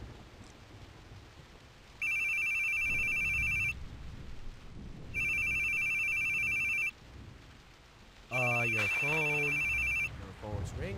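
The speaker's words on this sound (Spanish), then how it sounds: "Your phone's ringing." Telephone rings in The Boogie Man video game, three loud electronic ring bursts separated by pauses, over a low rumbling backdrop with a voice speaking during the last ring.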